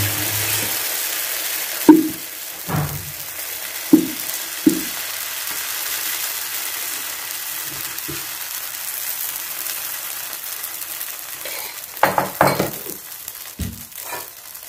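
Small uttapam batter frying on an oiled pan, a steady soft sizzle with a few sharp clinks and taps scattered over it, no talk.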